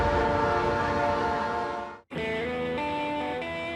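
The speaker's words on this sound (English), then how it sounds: "Phil and Jeff pilot their train carrying the polar bear trap over the last frozen river and into Moosonee." A train hauling a load through the snowbound woods of northern Ontario, crossing a frozen river near Moosonee, sounds a loud, sustained horn that breaks off briefly midway and then resumes, with rumbling underneath.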